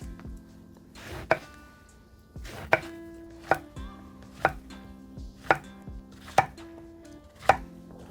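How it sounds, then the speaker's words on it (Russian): A knife cuts eggplant and zucchini into rounds on a board, giving eight sharp, evenly spaced chops about a second apart, each ringing briefly, with no talk. "Баклажаны и кабачки нарежем кругами."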